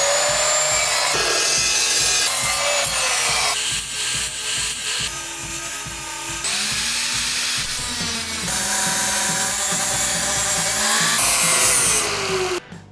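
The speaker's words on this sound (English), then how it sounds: "I'm gonna cut down some tubing to run across here" A power saw cuts metal tubing for a welding cart shelf brace, loud and close, its whine rising and falling as the blade bites in, with a few shifts in pitch, and a short fade at the end.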